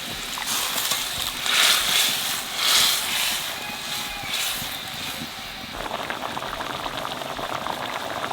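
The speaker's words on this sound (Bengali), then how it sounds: "জলে জাল উঠে গেছে" Water boiling hard in a pot while cooking aloo begun curry, a steady bubbling rumble heard up close with no talk, the texture shifting slightly partway through.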